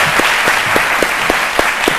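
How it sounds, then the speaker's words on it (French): An audience at a midday television show applauds in a dense, steady roar of many hands, with a few individual claps popping out rhythmically above the wash, loud and close throughout. "On va applaudir très fort, tonton Lazare."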